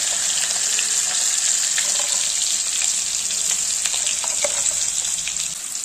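Potatoes fry in a pan while cooking a banana-flower dish, giving a steady, close, loud sizzle with a bright hiss and occasional crackles and pops, no talking.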